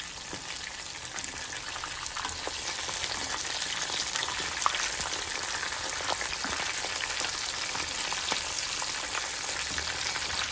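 Chicken lollipops sizzle steadily in hot oil in a pan after being turned. The frying is a dense, even crackle that stays at an unchanging level throughout, with no voices.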